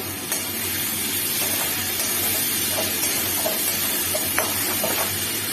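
A paste of ground ginger and cumin fries in a pan, giving a steady, close hiss and sizzle throughout, with occasional faint stirring clicks and no voices.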